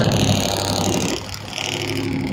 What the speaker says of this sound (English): Damn, that's a loud truck.